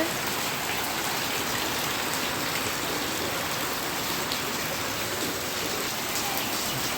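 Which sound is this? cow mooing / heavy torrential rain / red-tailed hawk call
heavy torrential rain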